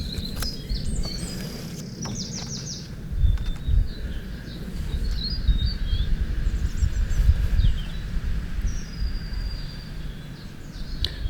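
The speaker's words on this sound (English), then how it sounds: "He heard the birds singing." Scattered bird chirps and short trills sound over a steady outdoor background of low rustling, moderately close and fairly quiet.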